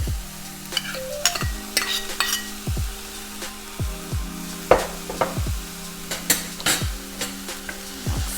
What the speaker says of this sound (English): Let's give it a little stir.